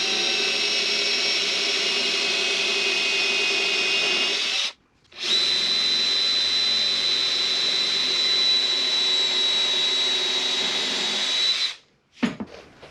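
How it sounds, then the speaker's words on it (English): A drill drives a brad point bit to bore a pilot hole in cabinetry trim, making a steady, loud, high whine in two long runs with a brief stop between them. "A brad point bit is great for these kind of jobs because your point, you can align right with your cross and push down, and then you have basically a pilot hole"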